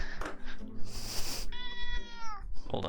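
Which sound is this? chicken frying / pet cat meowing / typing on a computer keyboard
pet cat meowing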